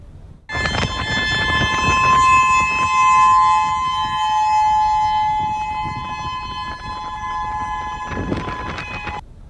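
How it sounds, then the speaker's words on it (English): Loud, sustained tsunami warning sirens in Hawaii wail steadily for several seconds, a long tonal blare over distant rumble, with no voices heard. "Sirens going off at this hour in Hawaii as people are urged to find higher ground."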